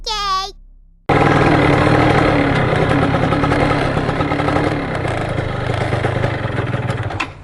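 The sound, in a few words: motorcycle engine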